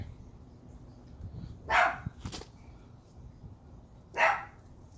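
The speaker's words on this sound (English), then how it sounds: "Dad's dog in the background." A dog barks in a yard a short way off, two separate sharp barks a couple of seconds apart over quiet outdoor background.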